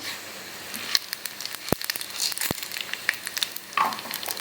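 Black pepper and cumin frying in a little oil in a pan, giving a steady soft sizzle with scattered crackles and a couple of sharp pops, close and alone.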